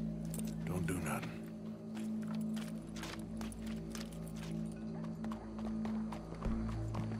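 Horse hooves clip-clop steadily in Red Dead Redemption 2, a close, rhythmic patter of steps over a low ambient hum of the game world.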